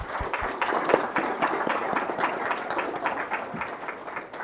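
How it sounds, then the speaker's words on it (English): Moderate, fairly quiet applause from the audience at a panel discussion on leadership, law enforcement and media, individual claps audible in a loose, uneven patter. "Another round of applause for our panelists,"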